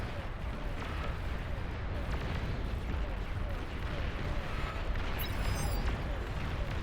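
Massive nuke-like explosion in the real-time strategy game Beyond All Reason during an 8v8 match, a dense, sustained roaring rumble with heavy low end and scattered crackling bursts, loud and continuous throughout.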